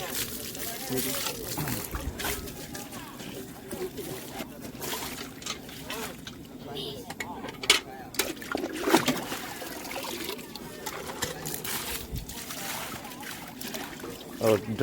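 Water splashes and sloshes into a large container, trickling and gurgling unevenly while people talk over it.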